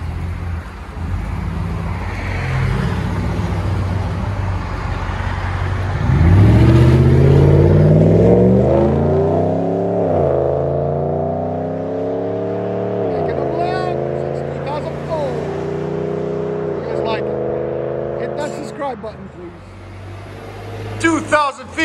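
A Ram 1500 pickup's 5.7L Hemi V8 with a Flowmaster Outlaw exhaust revs up and holds a rumbling, throaty drone with several rising and falling pulls, loud and close, with a voice over it.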